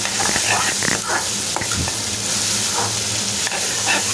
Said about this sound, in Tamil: இப்போ கேரட் போட்டதுக்கப்புறமா ஒரு 3 to 4 நிமிஷம் மீடியம் ஃப்ளேமில் விட்டுச்சு வதக்கி வச்சுருங்க